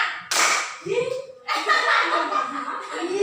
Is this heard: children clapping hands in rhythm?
yes